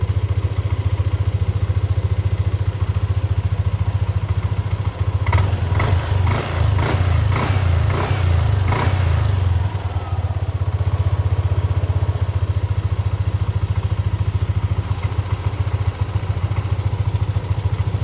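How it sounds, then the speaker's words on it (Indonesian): A Yamaha Aerox motor scooter engine idles steadily up close after a CKP sensor replacement, with a short stretch of rhythmic ticking clatter partway through over the constant low hum. "ini motor sudah bisa dinyalakan"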